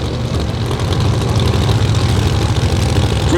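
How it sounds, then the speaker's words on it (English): A pro mod Mustang drag car with a supercharged Newton Hemi and screw blower rumbles loudly and steadily up close, a deep continuous engine drone at a drag racing event. "Very cool looking pro mod. It's got a Newton Hemi with a screw blower"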